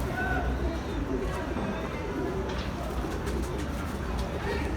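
A prized, richly coloured pigeon cooing in low repeated notes under steady background noise, with people talking nearby.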